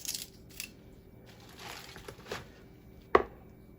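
Vegetables are trimmed on a cutting board, with faint scattered cuts and scraping and one sharper, distinct chop near the end, all quiet and close.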